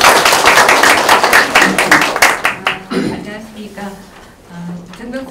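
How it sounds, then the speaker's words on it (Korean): Audience clapping at a Korean reunification talk concert, loud dense claps at first that thin out and fade after a few seconds, giving way to quieter room sound and a voice starting to speak. "큰 박수를 보내주시기 바랍니다."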